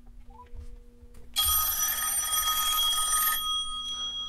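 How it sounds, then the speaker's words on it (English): Ringtone of an outgoing call on an Android phone, a bright ringing tone that starts abruptly after a few soft beeps and sounds loud and steady for about two seconds before cutting off. "I'm going to make a phone call."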